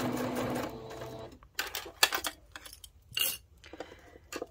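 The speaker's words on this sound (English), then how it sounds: "stitch all the way around" A sewing machine stitches around the edge of a fabric jar opener in short bursts of rapid mechanical whirring, with brief pauses between runs and no speech.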